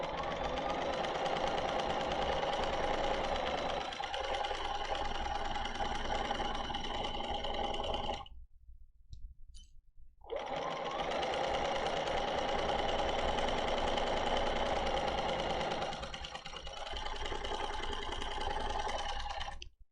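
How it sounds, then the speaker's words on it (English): A domestic sewing machine stitching a quilt along a marked line, running as a steady fast mechanical whir and knock, close and loud, broken by a brief pause midway before it resumes. "we're going to start right on the TRP line, and we're going to start sewing."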